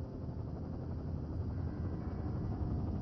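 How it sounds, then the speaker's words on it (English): A helicopter in the game Firewatch gives off a steady low rotor rumble that holds at an even level throughout, with no voices over it. "There's the helicopter."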